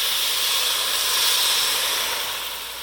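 Red wine poured into a hot pot roast pan gives a loud, steady hiss of boiling steam that swells slightly and then fades a little toward the end, with no talking.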